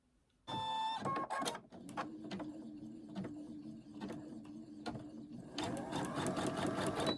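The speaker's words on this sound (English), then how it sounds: "So now I'm going to do my basting stitch." A Brother single-needle embroidery machine runs a basting stitch, starting abruptly with a loud, close, rapid mechanical whirring and clatter that continues steadily and then intensifies near the end.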